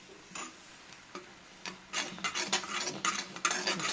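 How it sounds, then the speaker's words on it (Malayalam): A tea-based hair dye mixture is stirred in a small container, building into quick scraping and clinking strokes that grow louder and denser after a few quiet taps. "നല്ലോണം ഒന്ന് മിക്സാക്കി കൊടുക്കാം"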